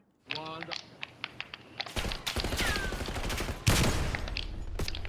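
Pistol gunfire in the Black Ops 6 video game: sharp, irregular shots crack amid clicky game noise and a louder dense stretch of firing, with voices talking over it.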